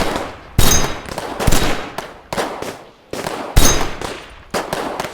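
Rifle gunfire from a World War II Pacific battle scene, loud sharp bursts of shots in irregular clusters with brief gaps, close and dense like a firefight.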